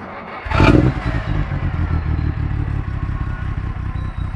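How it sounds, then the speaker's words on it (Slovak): The inline-six of a Maserati 3500 GTI fires up with a sharp burst, then settles into a steady, close mechanical idle with an even throbbing rhythm. "keď tu stále počujem tú radovú šesku, ktorá tu je"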